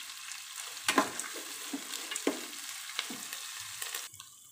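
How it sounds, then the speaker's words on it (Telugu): Chopped onion and curry leaves fry in a pan for brinjal rice, a soft sizzle broken by several sharp spatula scrapes and clacks at irregular intervals, close and unvoiced. "కట్ చేసుకున్న ఆనియన్, కొంచెం ఫ్రై చేసుకుందాం, కొంచెం కరివేపాకు వేసుకుందాం."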